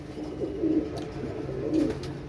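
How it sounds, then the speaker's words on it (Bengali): Chinese breed pigeons cooing nearby in a loft, two soft rolling coos with a steady low hum underneath and no talk. "এটা হচ্ছে চীনা কবুতর, চীনা।"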